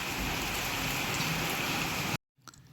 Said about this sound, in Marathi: इकडे तर पार गल्लीमध्ये पाणी पण वाहत आहे बघू शकता पाऊस किती जास्त पाऊस पडतोय